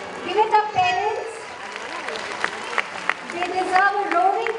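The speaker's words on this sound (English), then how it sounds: "They deserve a roaring clap from all of you" An audience claps for a student receiving an award at a school annual day ceremony in Singapore, with steady applause mixed with children's voices and crowd chatter throughout.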